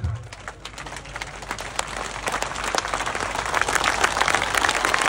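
Applause from an audience at a Delhi political rally for a BJP candidate, a dense continuous patter of many hands that swells steadily louder, with scattered bird coos in the background.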